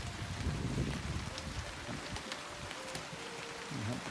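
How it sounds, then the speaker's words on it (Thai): Rain blowing in from the northwest onto a partly finished roof in a rural farm setting, a steady dense hiss of falling rain with gusty wind noise, quiet and continuous. "ฝนจะสาดมาช่วงมาทางนี้นะครับ"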